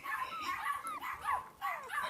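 Several puppies yip, bark and whimper in quick, overlapping bursts close by, high-pitched and playful, running almost continuously with brief pauses.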